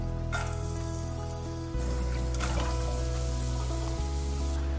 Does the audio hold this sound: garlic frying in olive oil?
yes